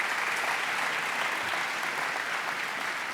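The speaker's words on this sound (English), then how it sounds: "Another round of applause for Charlie." Steady applause from an audience at a student athlete awards ceremony, dense continuous clapping sustained throughout at even loudness, with no voices standing out.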